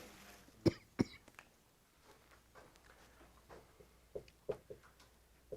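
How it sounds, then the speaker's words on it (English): A person coughs during a quiet algebra lesson, two sharp close coughs near the start followed by a few softer coughs and throat noises later, with low room hush between. "Sorry, I was coughing needlessly."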